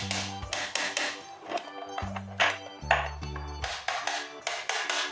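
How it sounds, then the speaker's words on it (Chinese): A toy hammer taps on the body of a toy car being repaired. The light knocks come in short irregular runs over tinkling background music, close and fairly quiet. "这是一把锤子，我们来把车壳敲一敲，把突出的部位都敲下去。"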